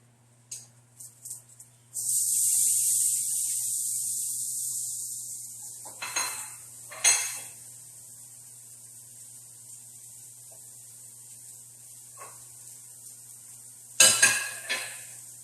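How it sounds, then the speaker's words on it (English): A frying pan is shifted across a gas stove flame while beef carpaccio is seared. A long steady sizzling hiss runs for several seconds, followed by a few metallic scrapes and clanks of the pan on the burner grate, with quieter gaps between. "I moved the pan over to the highest part of the flame"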